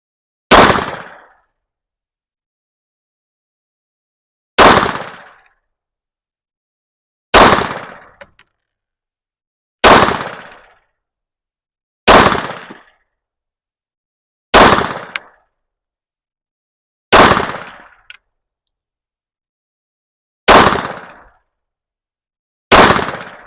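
Beretta Cheetah 80x pistol fired at a range, nine sharp, loud single shots spaced a few seconds apart, each snapping out and decaying quickly into silence.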